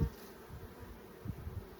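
A soft, steady hum of many honeybees buzzing together at a hive, faint and continuous with small swells, no voices.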